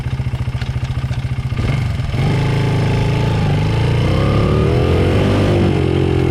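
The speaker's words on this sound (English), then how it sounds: "as the throttles get high, sort of half throttle and up, you'll hear that the bike just kind of dies, like it's running out of gas" A dirt bike engine with a poorly running main jet idles with a chugging pulse, then revs up toward half throttle, a loud, close, rising drone that falters and sags instead of climbing cleanly.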